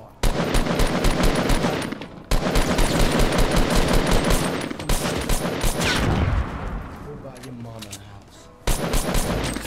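Rapid gunfire in Fortnite Battle Royale, several weapons firing nearby in dense repeated bursts with short pauses, ringing on almost without a break and loud.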